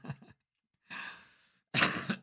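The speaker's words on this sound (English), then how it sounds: "Because I just coughed." A few short coughing bursts from a single adult, close and fairly loud, separated by brief silences in a quiet indoor room.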